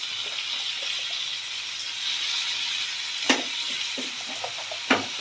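Fish pieces going into a hot pan for an Assamese duporia pitika thali, giving a steady broadband sizzle with a couple of sharper crackles and spatters.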